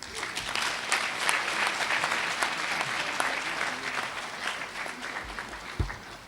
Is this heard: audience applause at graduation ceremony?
yes